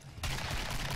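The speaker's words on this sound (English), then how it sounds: "Someone's got a shotgun at least." A shotgun fires in the co-op shooter Killing Floor, a sudden loud blast after a short quiet lead-in, followed by dense ongoing gunfire and combat noise.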